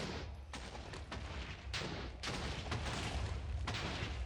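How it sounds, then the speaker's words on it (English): A Minecraft TNT block detonates in a dull blast, followed by a cluster of crackling bursts and rumbling debris that fill the scene for a few seconds, loud and chaotic. "We're going to light the TNT"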